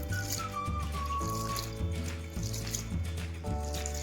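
Water from washed rice is poured away, running in a continuous liquid trickle and splash for a few seconds at close range, with a faint tonal hum beneath it.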